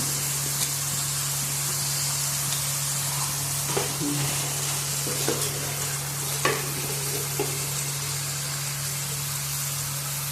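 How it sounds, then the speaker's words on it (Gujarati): Carrots and peas sautéing in oil for a Gujarati Kathiawadi curry: a steady sizzle carries all the way through under a constant low hum, with a few soft stirring knocks near the middle. "હવે આપણે એને થોડીક વાર તેલમાં સતડાવા દઈશું."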